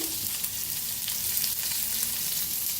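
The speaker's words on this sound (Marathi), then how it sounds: "त्याच्यात टाकूया कांदा भाजून घेऊया सगळं भाजून घ्यायचं हिरवी मिरची लसूण खोबरं वाळ धन आणि तिळवी" Onion, green chili, garlic, coconut, coriander and sesame roasting in a pan, giving a steady, close hissing sizzle that runs evenly throughout with no talking.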